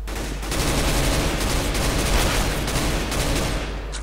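Rapid gunfire in Counter-Strike: GO from an SSG 553 rifle on the Nuke map, a dense, loud, continuous burst of shots filling about four seconds with no voices.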